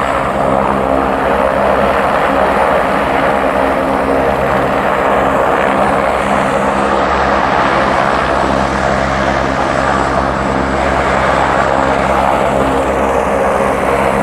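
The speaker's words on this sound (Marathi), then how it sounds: "आत्ता एवढ्यात हेलिकॉप्टर उतरेल, नवीन लोक बसतील आणि जातील पण." A helicopter close by as it comes down to land, its steady loud rotor and engine roar holding throughout, with no speech over it.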